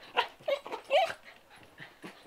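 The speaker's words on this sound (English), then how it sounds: "That's my little puppy Leo" A small puppy whimpers and yips in short, high, uneven bursts close by, a few brief cries spread over a couple of seconds.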